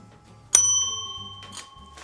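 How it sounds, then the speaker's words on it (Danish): Small bell rung once, a bright metallic ding that rings out and fades, followed by a softer second tap, with low background murmur. "Det er en fed klokke."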